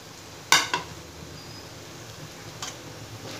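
Grated coconut is stirred into a cooked broad bean stir-fry in a pan. Two sharp clinks of a spoon on the pan come early, then a soft, faint sizzle with an occasional light scrape.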